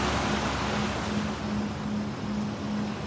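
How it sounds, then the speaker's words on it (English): Steady, continuous ocean wash with a faint low hum running underneath, played as a calming soundscape in an advertisement; the even, unbroken rush stays loud and constant throughout, with no voices. "enjoy the calming sounds of the ocean"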